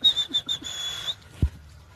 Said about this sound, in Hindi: ये सभी लोग मेरी सीटी की आवाज़ सुनेंगे और मेरे पास भाग के आते हैं